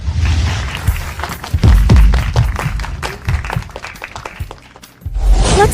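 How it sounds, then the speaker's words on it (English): A roomful of people breaks into applause after a prize announcement, dense irregular clapping with thumps, fading briefly before a final swell. "Let's give them a round of applause."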